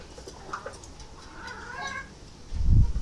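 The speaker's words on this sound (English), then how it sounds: "The chickens have been fed." Chickens just fed rice cluck softly and quietly in a few brief, scattered calls, ending with a louder low thump or rustle near the close.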